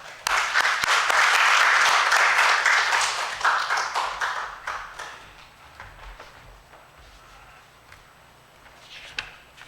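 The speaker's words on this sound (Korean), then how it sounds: "우리 감사하며 환영의 박수 한번 드리겠습니다." A church congregation claps in welcome at a tenth-anniversary worship service, a loud dense burst of applause that swells over the first few seconds, then thins into scattered claps and fades.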